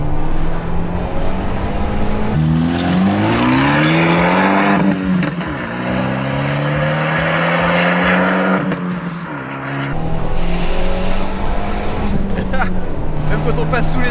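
An Abarth 124 Spider driving under trees, its loud exhaust droning and swelling through rising and falling revs, with someone talking over the engine at the start and end.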